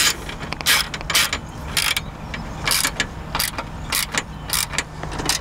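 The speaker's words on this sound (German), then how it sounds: "dann die beiden hinteren Schrauben festziehen. Fest, aber wie immer nicht zu fest." Rear screws of a luggage rack on a Vespa GTS 300 HPE scooter being tightened, giving repeated short, close metallic ratcheting clicks in irregular bursts over a steady low hum, with no talking.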